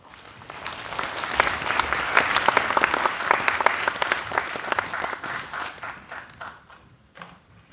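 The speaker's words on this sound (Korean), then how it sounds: "의장님 올라오실 때 큰 박수로 환영해 주시기 바랍니다." Large crowd in a packed hall at a city citizens' forum clapping to welcome the city council chairman to the stage, applause building to a full, dense peak and then gradually tapering off.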